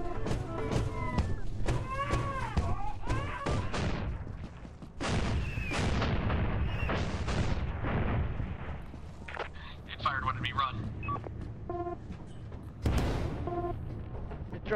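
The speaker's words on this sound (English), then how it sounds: "It sees you run. It fires fucking missiles." Enemy missiles firing in the video game Lethal Company: a run of loud booming blasts and bursts, close and heavy, coming in quick bunches with mixed game noise, while people talk over it throughout.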